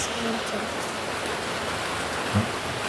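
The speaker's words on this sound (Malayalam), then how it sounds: "പുറത്ത് നല്ല മഴയാണ്" Steady heavy rain hisses outdoors as a dense, even wash of noise throughout, with a faint low thud near the end.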